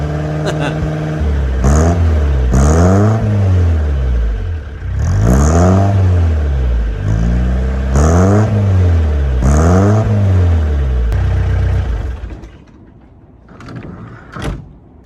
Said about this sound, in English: Don't rev it too much, you'll blow it up.